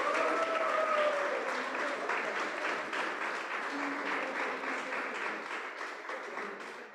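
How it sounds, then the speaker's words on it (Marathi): A church conference audience applauds to welcome Pastor Lena, steady, dense clapping from a large crowd filling the room, moderately distant and fading slightly toward the end. "Sister Jyotsna, can we put our hands together for Pastor Lena?"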